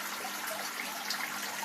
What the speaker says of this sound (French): Voilà, un filtre en cascade.